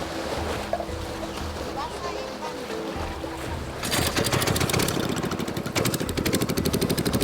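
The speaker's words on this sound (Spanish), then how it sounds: "Listo el peque-peque, que es el motorcito." A small peque-peque outboard motor on a boat on the Amazon river near Leticia. Its rapid, putt-putting engine chatter kicks in loudly partway through, over steady background water and engine noise.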